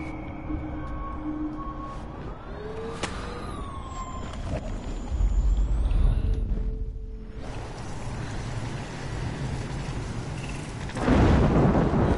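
A loud thunderstorm rumbles through the game Life is Strange, with deep sustained thunder, a heavier roll of thunder midway and another toward the end, layered over steady rain noise and a few passing tonal sweeps.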